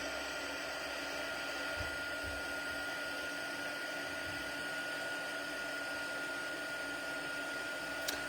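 An embossing heat tool blows a steady, loud, even hiss of hot air as it heats embossing powder on a card, running unbroken and alone throughout.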